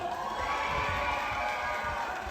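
A large crowd at a bullfighting event in Jinju cheers and shouts continuously, a dense roar of many voices at steady loudness throughout.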